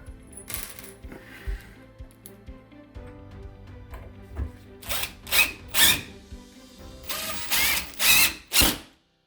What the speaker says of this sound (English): getting ready to screw in the hinges into the wall